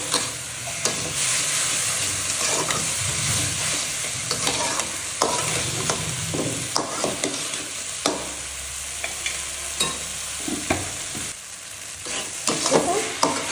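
Mung dal stir-fried bhuna-style in a pan with green chilies, a continuous sizzle broken by frequent scraping and clattering stirring strokes at an uneven rhythm, close and fairly loud, with no talking.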